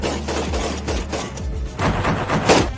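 Dense, rapid bursts of gunfire crackle continuously as a loud, close battle sound effect in an Indonesian radio drama, with no speech over it.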